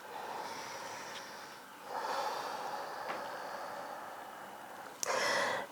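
Slow, full breaths drawn in a yoga class during a seated forward fold, soft inhales and exhales that are close and quiet, with a sharper, louder breath near the end.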